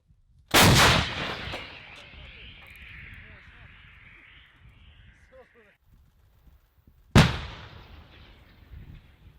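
Two loud artillery cannon blasts from a Ukrainian precision cannon in wartime, several seconds apart, each a sharp boom followed by a long rolling echo, with faint voices in between.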